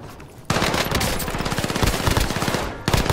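A CX-9 submachine gun in a video game opens up with a sudden, loud, sustained automatic burst of rapid evenly spaced shots lasting over two seconds, then stops and fires one more quick shot.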